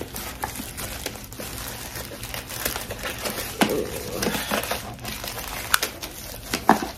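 Plastic packaging crinkles and rustles close by as a shaggy layered wig is unpacked, with irregular soft crackles and a few sharper crunches.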